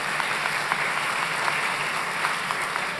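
Audience applause at a civics bee event at the Nixon Library, a dense steady patter of many hands clapping from a crowd, even and sustained for the whole stretch with no voices on top.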